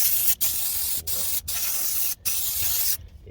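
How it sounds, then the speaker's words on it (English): Aerosol spray is blasted onto the rear brake of a Jaguar XF 3.0 V6 diesel, four close, loud hissing bursts separated by short breaks, ending abruptly. "Let's give it a good spray."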